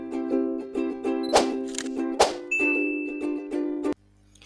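A bright notification bell chimes repeatedly in a quick ringing pattern, with a couple of louder clanging hits in the middle, then cuts off abruptly, leaving a faint low hum.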